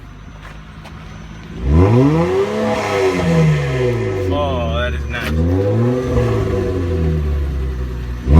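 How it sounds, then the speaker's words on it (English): A muffler-deleted 2003 Acura TL Type S engine revs hard in several rising and falling sweeps, loud and close, with a brief high whine partway through; someone comments briefly over the exhaust. "Let's give it some revs."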